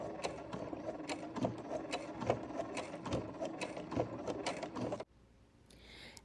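A sewing machine stitches in the ditch on jacket cuffs of an upcycled denim-style jacket, a rapid even mechanical chatter of repeating needle strokes, close and moderate in level, stopping abruptly near the end.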